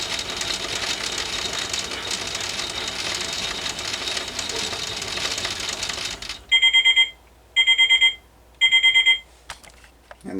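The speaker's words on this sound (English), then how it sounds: "so it'll actually go faster on the spin cycle" A Miele Novotronic toy washing machine whirs steadily on its faster spin cycle, a continuous mechanical hum that stops abruptly, followed by three loud electronic beeping bursts.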